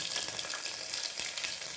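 Garlic cloves frying in hot ghee give a steady, close hiss with faint crackles and a sharp tick near the end.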